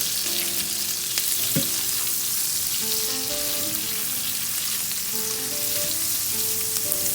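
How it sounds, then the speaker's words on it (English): Minced garlic fries in butter in a pan on medium heat, a steady loud sizzle with occasional scraping as it is stirred and mixed, and no one speaking. "And my minced garlic goes in next. Mix it all together."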